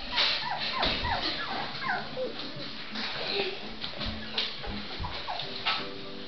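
A small puppy gives repeated high, thin whimpers and whines, close and fairly loud, mixed with rustling and handling noises, while people talk nearby.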